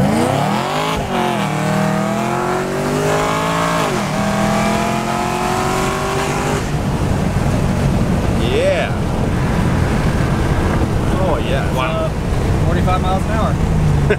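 A Cadillac CTS-V sedan accelerating hard, its engine note climbing in pitch through gears and then giving way to a loud roar of wind and road noise, while a voice talks briefly over it.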